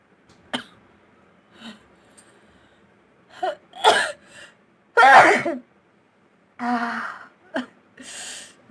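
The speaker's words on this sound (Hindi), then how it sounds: "इतनी जोर वाली छींक आई है" A woman coughs, gasps and gives a strong sneeze after tickling her nose with an ear bud, several separate bursts spaced out in a quiet room.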